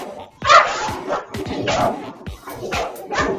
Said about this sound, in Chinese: 就听到院里的狗叫声。